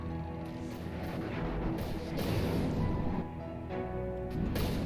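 Torpedo impacts in the naval combat game From the Depths land as muffled, heavy booms and rumbling crashes, several swelling bursts over a continuous low roar.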